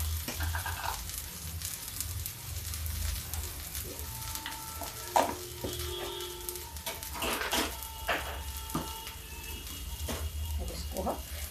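Okra with salt and vegetable masala stirred in a pan, a steady sizzle of frying beneath scraping of the spoon against the pan, close and continuous with no talking.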